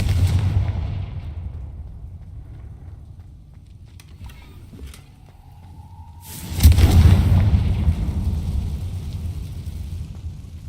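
Confringo fire spell blast in Hogwarts Legacy, a sudden loud booming burst about two-thirds through that rumbles and fades over several seconds, preceded by quieter game ambience and faint clicks.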